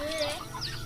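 A black chicken clucks close by, a few short, bright calls over a steady low background hum.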